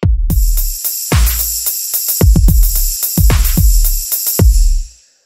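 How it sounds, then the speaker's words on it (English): Punchy dubstep drum pattern programmed in FL Studio 20: booming kicks and cracking snares in a syncopated half-time groove under steady bright hi-hat shimmer, loud and dense, cutting off abruptly at the end. "all together, the drums sound like this."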